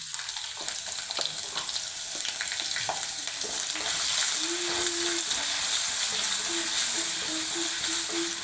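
Ginger and garlic tossed into a small amount of hot oil for a prawn curry, crackling in a dense, continuous sizzle that grows steadier, with occasional clicks of a spoon stirring.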